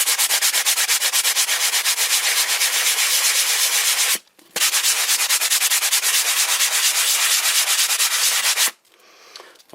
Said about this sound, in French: j'ai un tampon assez fin, voilà, que je passe dessus pour enlever la merde de surface.